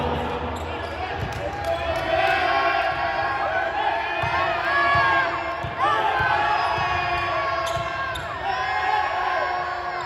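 Crowd at a 403 Basketball game cheering and shouting loudly in bursts, with whoops over steady court noise and an announcer talking throughout.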